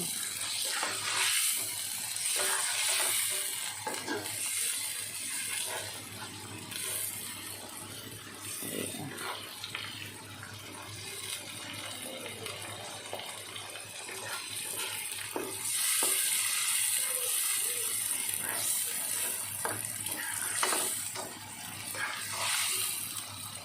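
Fresh farm crickets deep-fry in hot oil with a steady, dense sizzle and bubbling hiss that continues throughout, swelling and easing slightly, with no voices.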